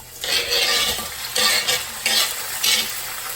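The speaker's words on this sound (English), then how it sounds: "cut up our 2 jalapenos and about a cup worth of peaches. So just add it to the oil." Chopped jalapenos and peaches sizzle loudly in hot oil for wing sauce, in four strong bursts of hiss as they are stirred, each dropping back to a softer crackle between, close and with no voices.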